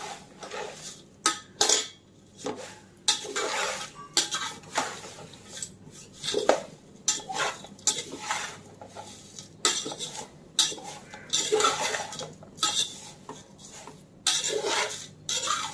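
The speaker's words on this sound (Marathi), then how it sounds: "खोबरं वगैरे जे खिसलं आपण तळून घातलं होतं हे सर्व आपण आता ह्यामध्ये ओतायचं आहे ग्रास आळू केलेला आहे पण हे हलवायचं आहे आता" A spoon scrapes and stirs thin poha chivda with fried grated coconut in a metal pan, making repeated clattering metal scrapes and clinks in uneven bursts, close and moderately loud, with no voices.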